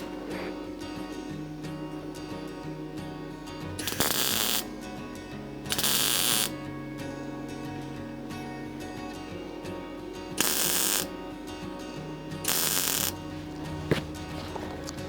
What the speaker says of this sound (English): I'm just going to do a number of spot welds and then come back and grind